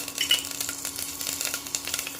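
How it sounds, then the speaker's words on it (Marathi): Mustard seeds crackling in hot oil for a tempering, a close frying sizzle dotted with quick irregular pops and snaps, with no talking. "मोहरी तडतडली की अर्धा चमचा जिरे टाकून घ्यायचे"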